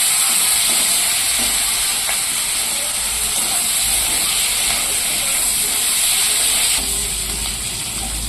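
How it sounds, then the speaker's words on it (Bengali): Large pieces of onion frying in a pan for an okra and prawn dopiaza, making a loud, continuous hissing sizzle that holds steady close by for several seconds. "দেখো পেঁয়াজটা ভালো করে ভাজা হয়ে গেছে"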